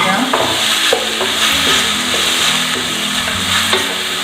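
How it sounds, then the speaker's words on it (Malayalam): Carrots and beans sizzle loudly in a pan for vermicelli upma while being stirred, a constant close frying hiss with repeated scraping and knocking of the spoon against the pan. "ക്യാരറ്റും ബീൻസും ആഡ് ചെയ്യും. നന്നായി ഇളക്കി വെക്കാം."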